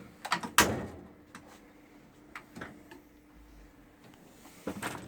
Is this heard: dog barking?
no